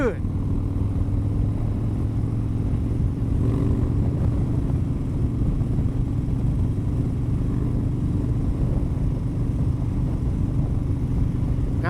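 Motorcycle engine running steadily while riding after a tune-up, a constant low droning rumble with a faint rise partway through, wind noise and someone talking over it.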